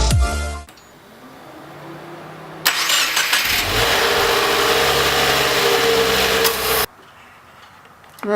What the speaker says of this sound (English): Alright, well, the car starts.